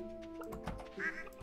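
A single short cartoonish duck quack sounds from a farm animal in the video game Stardew Valley, quiet and clean over soft background game music.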